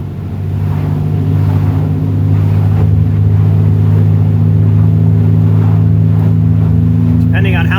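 A motorboat engine at high RPM, near 5,000, drones loud and steady, a constant throbbing roar that barely changes throughout.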